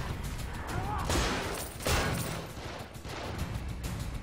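Video game gunfire from The Evil Within: The Executioner hits a teammate, coming as a loud burst of several rapid shots with a couple of heavier blasts in the middle.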